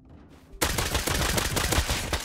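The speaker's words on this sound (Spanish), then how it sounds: "Pega dos tiros." A quiet lull, then a sudden burst of rapid gunfire in the game Rust that continues loudly in a dense, rattling stream.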